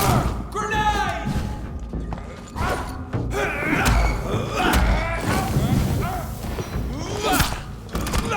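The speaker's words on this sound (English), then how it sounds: "Grenade!" A grenade goes off in the video game Vampyr: heavy thuds and booms burst through dense, busy combat noise, with voices talking over the action throughout.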